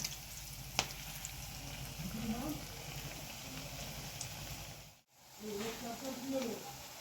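Quiet bubbling sizzle of raw plantain kofta balls deep-frying in oil, with soft voices talking over it and a brief drop to near silence before the sizzle resumes.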